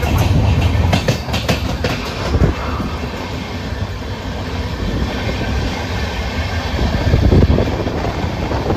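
A train runs on rails approaching Vasco da Gama station in Goa, with a loud, steady rumble and rhythmic clatter of wheels that continues throughout, with no talk.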